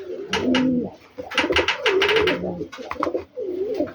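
A racing pigeon coos close up in a loft, several throaty, rolling bursts separated by brief pauses, loud and clear with little else around.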